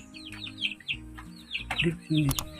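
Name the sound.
chicks drinking and clucking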